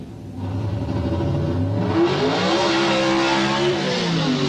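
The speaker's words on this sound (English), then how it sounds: "Test launched the car and it came out sitting on the back wheels" A Pro Stock drag race car engine roars and revs hard as it launches onto its back wheels, loud and close, the pitch climbing and holding high.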